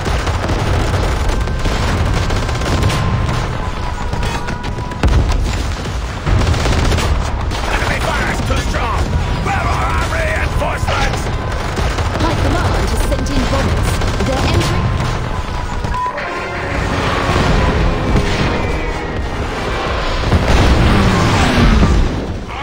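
Warpath video game battle: relentless loud gunfire and repeated booming explosions, a dense, continuous barrage of shots and blasts with shouted orders over the top and a brief lull midway.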